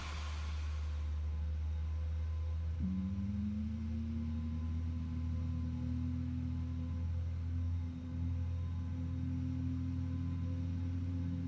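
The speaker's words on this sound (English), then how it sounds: "Engine start." An airliner jet engine spools up in the X-Plane flight simulator, a low steady drone joined by a rising tonal whine that climbs and then holds, loud and continuous with no talking.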